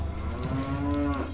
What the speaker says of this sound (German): Hä, das ist eine Kuh.